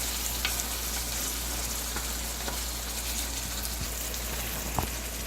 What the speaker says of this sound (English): But we want these tomatoes to cook down where they're falling apart.